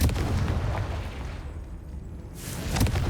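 Blasting fire from the Confringo spell in Hogwarts Legacy, a loud, broad explosive roar that fades into a short quiet stretch before another burst rises.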